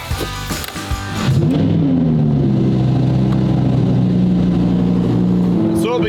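Lamborghini Aventador SVJ engine cold-starting: a sharp crank and burst, then a loud, steady high-idle roar that holds on close to the car, ending with a brief flare.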